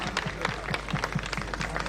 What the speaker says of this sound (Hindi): गुरु जी के लिए ताली मारो सब लोग